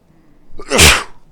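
A single loud, close human sneeze with a short intake building into one sharp burst, alone and without talk.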